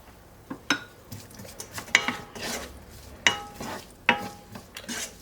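Onions with a pinch of salt cooking in a pan, a soft background sizzle broken by several sharp clinks and scrapes of a utensil stirring against the pan, no voices.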